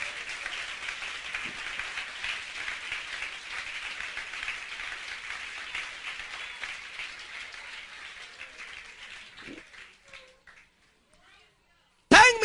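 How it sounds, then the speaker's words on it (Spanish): Sustained applause from a church congregation during a sermon, steady dense clapping for about ten seconds with a few scattered voices, then it fades out and stops. "Denle un aplauso al Señor"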